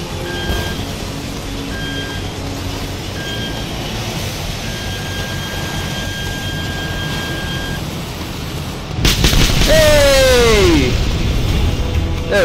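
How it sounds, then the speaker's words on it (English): Jet engines in Just Cause 2 drone under a steady wash of background noise with intermittent beeping tones, then swell into a loud roar with a falling whine toward the end; no talk. "Oh, there's big jets."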